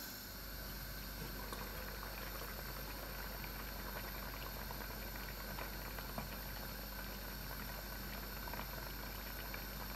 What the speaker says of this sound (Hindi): तब तक बॉइल्ड करेंगे जब तक ये हमारा पास्ता